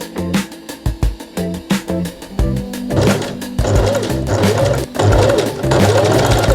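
Close domestic sewing machine stitching the facing of winter pyjamas, first in short stop-start bursts of rapid needle clatter, then running in longer continuous humming runs.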